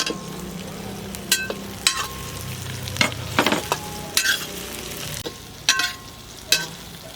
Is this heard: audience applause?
no